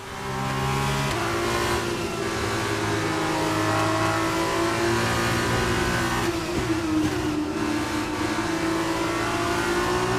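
An F2 race car engine revs hard in the video game F1 22 at the Sakhir circuit, a loud, sustained high-pitched whine rising and falling with gear changes and a brief dip near six seconds.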